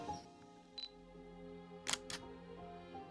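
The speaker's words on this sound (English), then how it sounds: "The sound of this shutter is addicting and so satisfying." A Fujifilm X-T10 camera's shutter fires in a few sharp mechanical clicks, with a close pair near the middle of a quiet, faintly humming room.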